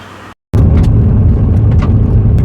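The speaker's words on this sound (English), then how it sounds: "So I'm driving down a gravel road" A 2007 Honda Odyssey minivan with a misfire rolls over a gravel road: a loud, close cabin rumble of tires and engine, heard after a brief dropout, with faint rattles over the low roar.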